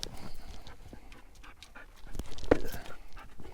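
A dog pants faintly in quick, rhythmic breaths at a trail stop on steep off-road terrain, mixed with scattered rustles and knocks.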